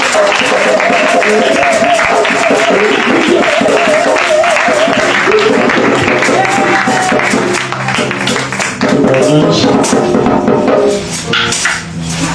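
A French-speaking church congregation applauds and cheers in acclamation during worship: dense, sustained clapping and raised voices blended with music, loud and continuous throughout.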